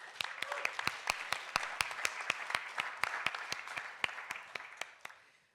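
An audience at an investment pitch showcase for scale-up companies applauds a presenter, with sharp, fairly regular handclaps standing out over a continuous wash of clapping that fades at the end.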